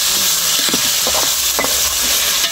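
Tomatoes fry in a hot pan for prawn curry, a loud continuous sizzle with a few scraping stirs, steady throughout and with no talking.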